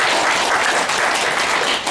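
Loud, dense applause fills the room at a motivational business meeting, a steady wash of many hands clapping together as a crowd welcomes a speaker, with no talk over it.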